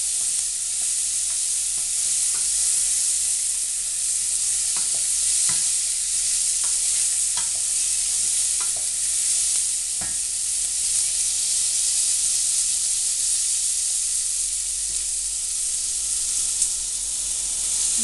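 Oxtail stew is stirred and browned in a sizzling pot, a steady loud hiss of frying with occasional light scrapes and knocks of the spoon across the pot, no voices.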